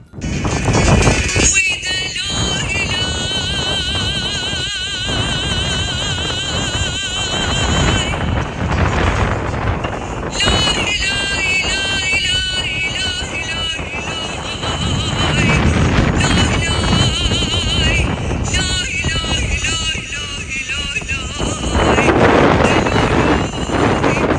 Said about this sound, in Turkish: Rüzgarla karışık yağmur dolu atıyor şu anda.